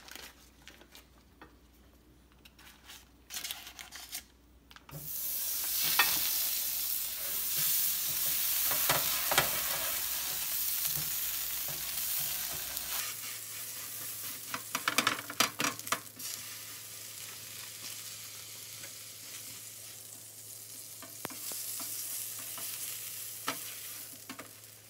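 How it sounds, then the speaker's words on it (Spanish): Torta bread browning in butter in a pan, quiet at first, then a soft steady sizzle with occasional crackles and scraping, easing off toward the end, with no talking. "Ya la doramos poquito con mantequilla."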